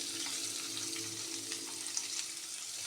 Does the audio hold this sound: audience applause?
no